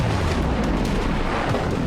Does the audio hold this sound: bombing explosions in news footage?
yes